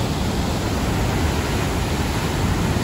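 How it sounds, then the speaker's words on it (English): A steady, loud roar of water rushing through the spillway at Grenada Lake pours continuously, broadband and unbroken. "The roaring sound of the water coming through."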